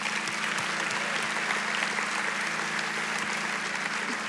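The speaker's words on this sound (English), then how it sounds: "Can we give our dads a round of applause?" A church congregation applauds steadily, dense clapping filling the space without pause for a few seconds.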